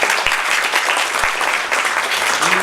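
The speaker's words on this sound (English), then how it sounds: "please give a big round of applause" Audience applause after a talk on large optical telescopes, loud dense clapping from a crowd held steady for the whole stretch, with a couple of low thumps and no voices.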